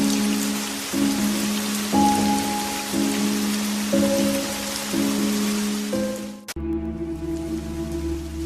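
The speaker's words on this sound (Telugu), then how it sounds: "ఈసారి వర్షాలు బాగా పడుతున్నాయి" Heavy rain pours steadily under a droning tone that steps in pitch every second, then a sharp crack and a deeper drone take over.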